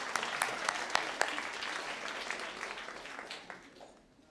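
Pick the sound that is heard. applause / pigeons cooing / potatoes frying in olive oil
applause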